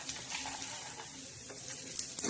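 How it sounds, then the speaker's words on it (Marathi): Garlic sizzling in hot oil for a spiced Bombay duck curry, a close, continuous crackle with a few faint clicks near the end. "लसण बी असं छान भाजून घ्यायचा."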